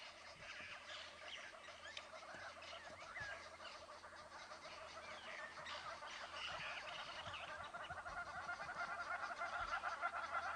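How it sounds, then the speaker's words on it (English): Hornbills, starlings and orioles call busily at dawn on a chilly African safari drive, a dense, steady chorus of overlapping calls and honks at moderate distance with no talk. "The birds are going absolutely crazy back there."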